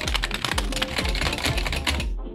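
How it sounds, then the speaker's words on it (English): Rapid, close clicking of keys on a computer keyboard, steady and fairly loud, with no other sounds. "typing on your keyboard"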